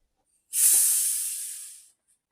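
A single sharp hiss of gas escaping from a bottle of fizzy homemade kvass, starting abruptly and fading over about a second and a half, close and fairly loud, with nothing else around.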